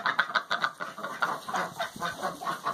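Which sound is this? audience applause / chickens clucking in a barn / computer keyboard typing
chickens clucking in a barn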